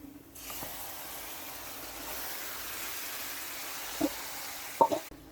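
Marinated beef fries with onions for beef korma, giving a low, steady sizzle at moderate distance, with a couple of brief utensil knocks near the end.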